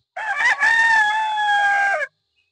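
Pure Sweater gamefowl rooster, about five months old, crowing once, a single loud, clear, drawn-out crow close by, followed by silence.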